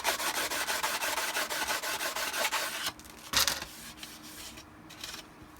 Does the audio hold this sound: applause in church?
no